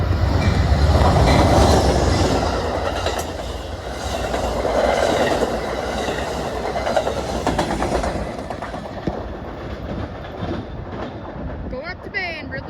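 Amtrak Downeaster passenger train heading to Maine rushes through Ballardvale, a loud, steady roar of rail cars with rhythmic clacking and faint wheel squeal, swelling near the start and easing toward the end.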